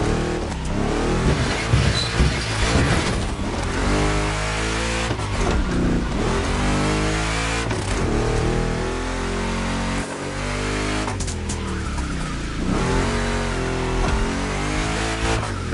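A big-block car engine in a video game revs hard and loud, its deep, gritty roar rising and falling through repeated throttle blips and gear changes, close up and continuous with no talking.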